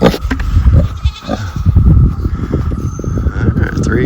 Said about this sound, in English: This video is about goats.